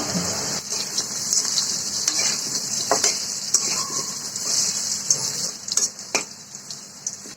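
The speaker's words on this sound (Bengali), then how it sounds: "আমি আলুটা একটু প্রথমে ভেজে নিব তেলের মধ্যে" Potato pieces fry in hot oil in a pan with turmeric; a loud, continuous sizzle runs throughout, broken by scraping stirs and light utensil knocks.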